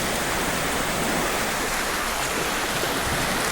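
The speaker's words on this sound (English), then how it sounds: "A little stream comes out here." A small stream and little waterfall near a road on Michigan's Keweenaw Peninsula, a close, steady broadband rush of flowing water that fills the whole stretch without a break.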